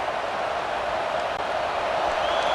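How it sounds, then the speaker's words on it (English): Steady, roaring stadium crowd from College Football 26 at a Week 1 game, FCS Northwest Stallions at Oregon Ducks, forms a dense, continuous wall of cheering that holds even and loud throughout. "This crowd bringing the energy and noise early."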